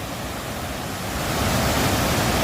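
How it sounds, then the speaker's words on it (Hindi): A mountain stream near Sach Pass roars as a steady, loud wash of rushing water that swells slightly partway through, with no voices. "इस पानी की गड़गड़ाहट"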